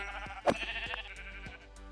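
Sheep in the Minecraft video game bleat, with a couple of short, fairly close calls over a steady background hum.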